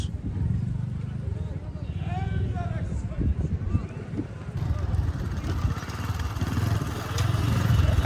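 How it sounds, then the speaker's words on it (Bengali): A motorcycle engine hums steadily at close range at Muchapur beach in Noakhali, Bangladesh, a continuous low rumble with wind, while people talk over it. "আমরা এখন বাইক নিয়ে যাচ্ছি"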